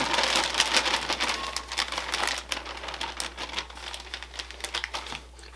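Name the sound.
combining coleslaw mix with onion and vinegar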